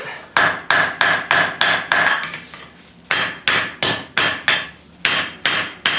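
Hammer blows ring against an anvil while bolt jaw tongs are forged. The strikes come in two fast, steady runs of about five or six each, separated by a short pause, close and loud with no talk.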